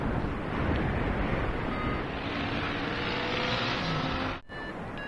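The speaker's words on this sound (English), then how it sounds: "I'm a bit surprised that the wind's coming up the valley" Wind blows up a valley at a paragliding launch in the Dolomites, a loud, steady roar buffeting the microphone for several seconds before a brief dropout near the end.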